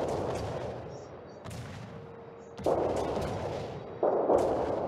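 Naval artillery booms from warships in the video game World of Warships, several heavy shots spaced a second or two apart, with a faint voice in the background.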